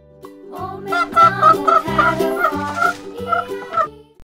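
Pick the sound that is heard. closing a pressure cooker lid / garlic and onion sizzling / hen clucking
hen clucking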